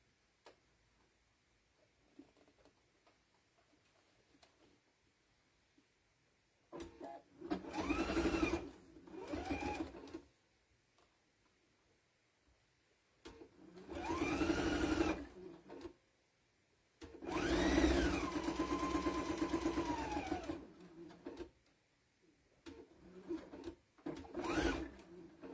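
A sewing machine stitches a bird-shaped potholder in four separate bursts of fast mechanical whirring, with quiet pauses and faint handling between runs.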